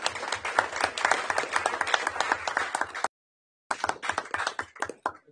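Applause at a city council meeting, a small group clapping close and crisp for about three seconds, then a brief cut to silence before the clapping resumes and tapers off.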